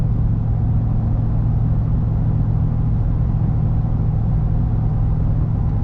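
A Ford F250 with the 7.3 Godzilla engine and an MBRP 4-inch exhaust runs with a steady, loud, deep rumble that holds constant throughout, with no talking.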